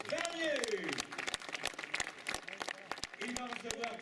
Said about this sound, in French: On applaudit Antoine Bernier